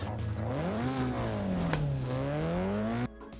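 An engine revs up and rises in pitch, dips, then climbs again before cutting off abruptly, a smooth synthetic-sounding car engine starting in Forza Horizon 5.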